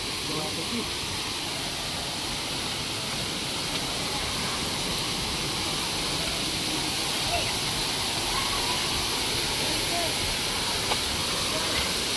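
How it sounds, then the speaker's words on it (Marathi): Vayngani waterfall hidden in forest near Vengurla gives off a constant, fairly faint hiss of falling water, steady and unbroken throughout. "तर हा बघा सुंदर असा वॉटरफॉल"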